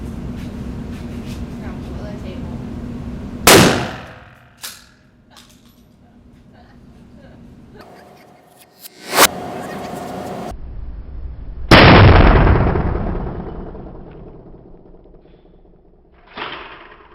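A 12 gauge shotgun with a 29-inch barrel fires a Federal 4 shot turkey load from three yards, giving a few loud, sharp blasts with decaying tails, set between stretches of low talk and background noise.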